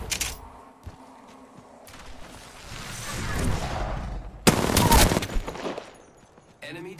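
Video game gunfire from a shooter match, a rattling burst of automatic shots building to a sharp loud volley, close and harsh, mixed with game sounds and a player talking.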